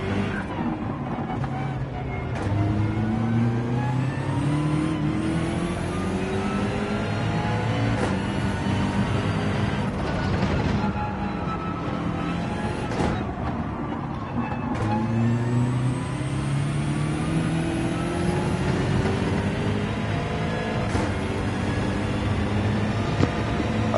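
Engine drone from a BMW racing at Lago Maggiore in Gran Turismo 7, a steady low roar with rising and falling pitch through gear shifts, continuous and fairly loud, with people talking over it.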